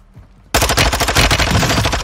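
Automatic gunfire in the video game Warzone 2.0, a sudden loud burst of rapid shots that starts after a quiet moment and continues as a dense, fast rattling stream.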